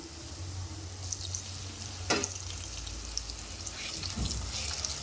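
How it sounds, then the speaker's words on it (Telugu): Ginger garlic paste sizzling with potatoes in a pan, a steady close frying hiss with brief stirring scrapes, no talk. "పచ్చి వాసన పోయే వరకు ఫ్రై చేసుకోవాలండి"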